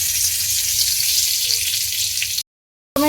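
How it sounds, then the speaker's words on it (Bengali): Loud, close sizzle of a bay leaf hitting hot oil released from yogurt, a dense crackling hiss that cuts off abruptly near the end. "এখানে দিয়ে দিলাম তেজপাতা"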